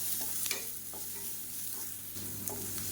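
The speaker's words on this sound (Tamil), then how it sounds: "பெரிய வெங்காயம் சேர்த்துக்கலாம் இது வந்து லேசாக வதக்கினா போதும் ரெண்டு பல் பூண்டு நச்சு வச்சுருக்கேன் அதை சேர்த்துக்கலாம்" Sliced large onion and crushed garlic cloves sauté lightly in a pan, giving a steady low sizzle with a few brief scrape-and-stir clicks from the spoon, close by and alone.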